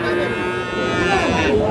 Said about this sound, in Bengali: শাহিওয়াল জাতের বাছুর গরুগুলোকে।